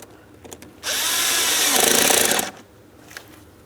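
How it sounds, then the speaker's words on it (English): A power tool tightens a hose clamp on the air filter housing of a 2003-2007 Cadillac CTS 3.6L V6, a loud, close whirring burst lasting under two seconds, with quiet handling noises before and after. "While holding pressure, I'm going to tighten my clamp."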